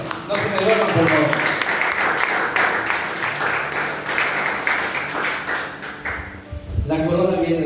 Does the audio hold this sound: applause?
yes